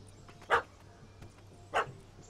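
Two sharp dog barks about a second apart from a dog chasing a cat up a tree in The Witcher 3: Wild Hunt, Hearts of Stone, over a quiet ambient game background.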